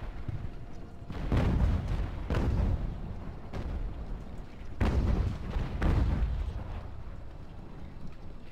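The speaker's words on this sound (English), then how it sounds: "All other artillery will shoot at somebody that's close, along with my mortar." Cannon artillery and mortar fire during a siege of Toulon in Ultimate Admiral: Age of Sail, a run of deep booming shots that overlap and roll under steady low battlefield rumble, with heavier salvos near the middle.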